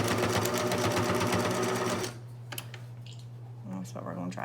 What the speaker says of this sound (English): I tend to try to sew right on top of my seam